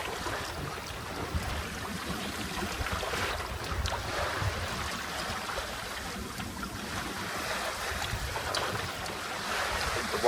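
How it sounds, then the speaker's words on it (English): A steady wash of wind and water noise over a low engine rumble from a big boat passing nearby on a river off Fraser Island, holding fairly constant throughout. "The one behind still got his engine on. Big boat."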